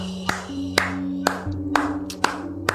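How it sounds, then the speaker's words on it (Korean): A handful of slow, even hand claps ring out in a Korean talk-radio studio, about two per second, each crisp and close, over a low steady hum with no talking. "박수가 절로 나와요"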